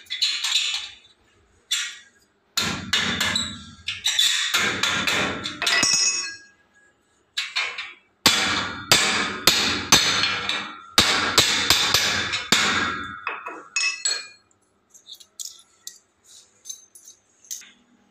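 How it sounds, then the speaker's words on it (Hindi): Stainless steel railing being hammered tight into a corner during installation, sounding as close, loud bursts of sharp metallic blows in irregular clusters separated by short pauses, with no talking over them. "देख सकते हैं ऐसे बिल्कुल कोने में ठोंके आप, ताकि एकदम टाइट हो जाएगा ये"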